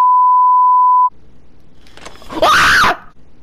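A person lets out a short, loud, piercing scream that rises and falls, preceded by a steady electronic beep tone and a brief pause.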